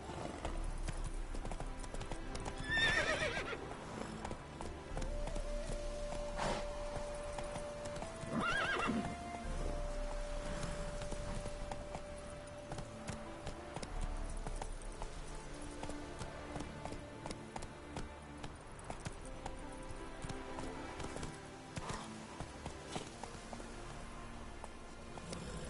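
Roach, a horse in The Witcher video game, whinnies loudly a few times over clopping hooves, the hoofbeats shifting between a trot and a faster run, close and clear with only faint background music.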